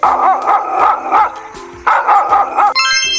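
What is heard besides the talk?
dog barking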